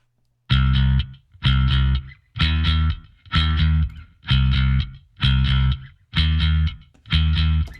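Distorted bass guitar with full, woolly lower mids left uncut, playing eight sustained, evenly spaced notes in a steady rhythm, loud and close with no talking.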